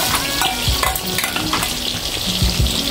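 Curry leaves are tempered in hot oil for a drumstick kuzhambu, giving a continuous close sizzle and frying crackle broken by light clacks as the pan is stirred. No voice is heard.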